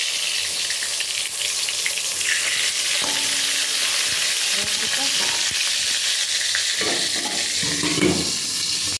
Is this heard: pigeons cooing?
no